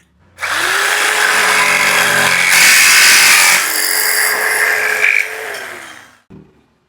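A DongCheng DMQ85S electric jigsaw with a metal-cutting blade, pendulum set to zero, cuts through hollow aluminium in one loud continuous buzzing, rasping run of about six seconds, starting and stopping abruptly with a brief tail.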